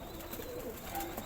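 Young pigeon squabs in their first week, cooing softly in short low warbles against a steady background hiss, close by and fairly quiet.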